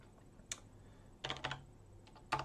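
Short bursts of typing on a computer keyboard at a Linux desktop, a few quick key clicks, then a pause, then two more clusters of taps, close and fairly quiet, with no voices.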